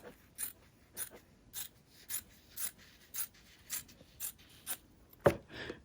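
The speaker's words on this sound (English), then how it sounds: "So I'm just going to go ahead and cut across like this." Scissors cut across quilted fabric for a herringbone top zip bag, making soft, evenly spaced snips about every half second. Near the end comes one sharper, louder crunch, all fairly quiet with no talk.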